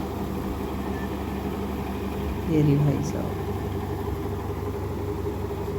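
A tractor engine idles steadily beside a straw-making machine in a farm field, a continuous low rumble throughout with someone speaking briefly over it partway through.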